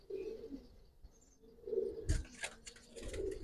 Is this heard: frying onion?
no